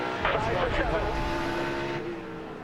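NASCAR race car at a restart, engine roaring with a brief rising wail as the tires spin, close and loud with a race commentator talking over it.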